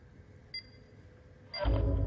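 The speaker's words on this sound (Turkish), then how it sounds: "ben şey arıyorum bulamıyorum bomba. Sesi çıkıyor bip bip diye." A bomb in the video game Warzone gives two short electronic beeps a second apart, the second followed by a sudden loud burst of noise.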